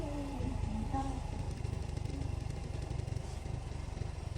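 A Tank 200 motorcycle scooter chugs along a forest road, its engine a steady, rapid, pulsing putter at close range with no voices.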